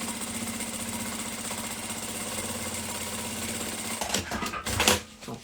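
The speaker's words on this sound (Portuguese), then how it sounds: "Aí você vai fazer a costura de novo" Sewing machine running steadily as it stitches a seam on a handmade bag, a close mechanical whir with fast needle ticking, broken up by a few clunks and handling noises near the end.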